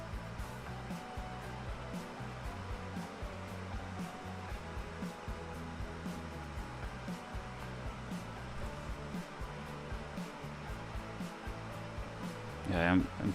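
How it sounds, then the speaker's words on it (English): A soldering fume extractor fan runs steadily at a workbench while a modular synthesizer kit is built, its broadband whoosh constant throughout with a brief louder burst near the end. "I'm still gonna have to figure out a better arrangement for the fume extractor, because it doesn't do the greatest job."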